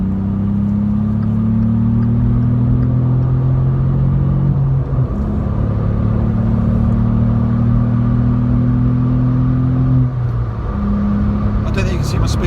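A VW up! GTI fitted with a Milltek exhaust pulls hard, its engine drone climbing steadily in pitch through the gears with a brief dip at each shift, loud and close from inside the cabin.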